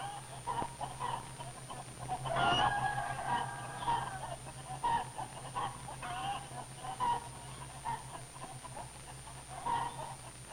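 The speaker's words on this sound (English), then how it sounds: "The big rooster crows right in Tuffy's face." A big rooster in a chicken yard gives a few crowing and clucking calls, moderately near over a quiet, steady hum from an old 1948 film soundtrack.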